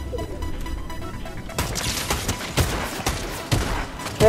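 Gunfire in the video game Fortnite, a run of sharp shots at roughly regular intervals, close and fairly loud, over faint background game sound.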